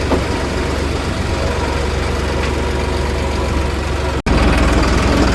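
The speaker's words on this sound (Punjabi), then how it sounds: "ਕਰਤਾ ਟਰੈਕਟਰ ਬਾਹਰ" A farm tractor idles nearby with a loud, steady low rumble and even engine throb. There is one abrupt dropout just past four seconds.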